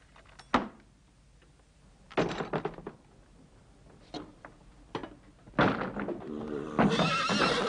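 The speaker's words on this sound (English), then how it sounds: "Charlie, calm those colts down." Young colts neigh and whinny in a stable, several loud high calls breaking out between thuds and knocks of hooves and wood, close and echoing, building to overlapping cries at the end.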